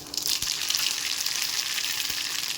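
Mustard seeds dropped into hot oil for an amla and raw mango chutney, a steady bright hiss and crackle, close and fairly loud, with a couple of faint knocks and no talking.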